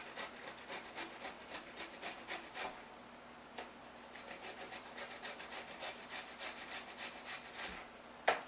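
A chunk of ginger is scraped back and forth across a grater in a steady rasping rhythm of about two strokes per second, close and fairly quiet, with no one talking.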